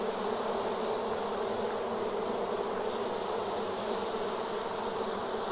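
A swarm of honey bees fans at the entrance of a box, making a dense, continuous buzzing drone that stays loud and close without pause.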